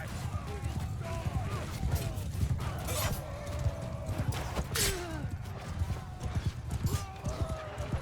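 Hooves of cavalry horses clatter across a battlefield in Mount & Blade II: Bannerlord, dense rapid clip-clop over battle noise with an occasional whinny, while someone talks over it.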